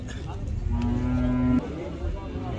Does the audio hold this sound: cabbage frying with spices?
no